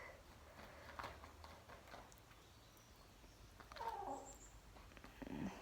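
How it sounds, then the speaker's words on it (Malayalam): A house cat gives a couple of faint, drawn-out meows, one in the middle and another near the end, over quiet indoor background noise, with no talking. "എൻ്റെ പൂച്ചയാണ് ഗൈസ്"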